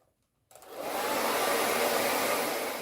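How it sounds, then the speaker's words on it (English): A hair dryer switches on and blows steadily to dry freshly painted wooden tumbling tower blocks, a loud, close, continuous whoosh starting abruptly after a brief quiet moment and holding without talk. "to speed up the process I'm going to use the blow dryer"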